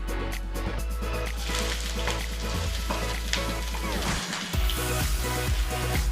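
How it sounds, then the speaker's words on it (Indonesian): Chopped onions hit hot oil in a pan, with a loud, continuous crackling sizzle throughout, punctuated by stirring scrapes. A voice talks briefly over the frying. "Nah, sekarang minyaknya udah panas. Kita masukkan dulu bawang bombaynya ya."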